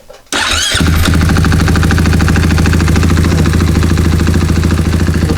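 A motorcycle engine cranks briefly, catches and settles into a loud, steady, close idle with an even throbbing pulse.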